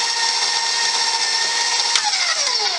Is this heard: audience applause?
no